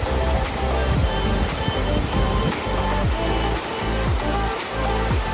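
The Curug Sidoharjo waterfall in Kulon Progo, Yogyakarta, pours in a dense, continuous rush of water, loud and close, with no voices over it.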